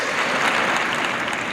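A crowd at a 2015 high school graduation applauds and cheers, a dense, steady wash of clapping that fills the whole stretch without a break.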